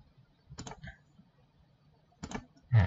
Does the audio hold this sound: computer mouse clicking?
yes